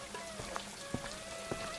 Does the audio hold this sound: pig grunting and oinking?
no